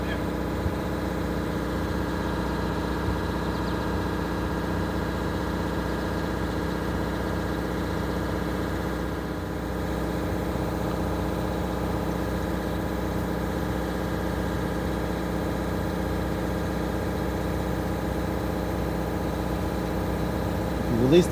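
MCI bus diesel engine idling steadily in a parking lot, a loud, even low rumble and drone that holds for the whole stretch, with a voice talking over it.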